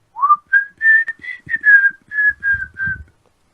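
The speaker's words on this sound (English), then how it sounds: "You do know that's the mobster whistle." A mobster in the 1932 film Scarface whistles a jaunty tune, nine clear melodic phrases in quick succession, close and prominent, with faint soft noises near the end.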